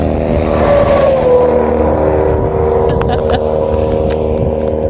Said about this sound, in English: I don't know if you can hear me because of all the car noise